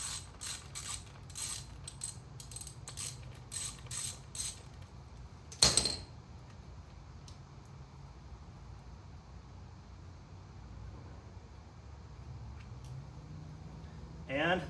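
Coil packs are worked loose from an LS1 V8 during a teardown, giving close metallic clicks and ratchet-like rattles that turn into a sharp clunk, followed by quieter shop background noise and scattered handling sounds.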